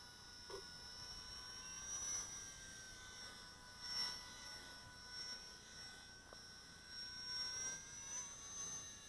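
A Blade 200 SR X radio-controlled helicopter flies at full throttle under a gray sky, giving a faint, steady high-pitched rotor and motor whine that swells and eases slightly, with no talk.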